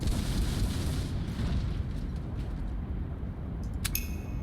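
Ship cannon fire in the naval battle game Port Royale IV, a dense rumbling boom that fills the mix, with a sharp metallic ring near the end.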